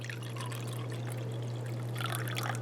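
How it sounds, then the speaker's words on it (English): Potassium hydrogen phthalate (KHP) solution poured into a laboratory beaker in a chemistry lecture demonstration, a steady soft trickle of liquid over a constant low hum, growing brighter and splashier toward the end. "I'm going to take this KHP and I'm going to pour it into"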